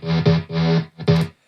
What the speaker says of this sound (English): I added a bass as well, kind of a distortion, just a simple saw with distortion on it